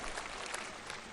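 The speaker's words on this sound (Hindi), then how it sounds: "तो जरा एक बार जोरदार तालियां हो जाए भाई।" An audience at an Acharyakulam school event in Haridwar applauds with a soft, continuous patter of clapping, steady and fairly faint throughout.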